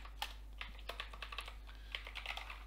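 Close, quiet computer keyboard typing of code in short irregular bursts of keystrokes, with no talk over it.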